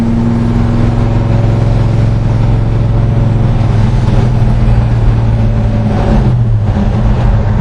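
A 1966 Chevrolet Chevelle SS muscle car engine roars steadily from close by, a loud continuous drone that dips and shifts pitch near the end as the car launches; no talking is heard.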